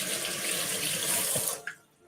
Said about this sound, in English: Actually, let me rinse them off a little bit.